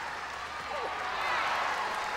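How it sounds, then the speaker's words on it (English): A large stadium crowd at an athletics meet in Crystal Palace, 1994, cheering steadily at moderate distance, a broad continuous roar swelling slightly toward the end. "a big cheer from the crowd"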